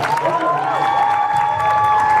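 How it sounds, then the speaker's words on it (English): Audience at a student poetry slam applauding and cheering, a steady crowd roar with clapping mixed under sustained whistling or tonal cheers, moderately loud and continuous. "Let's give another round of applause."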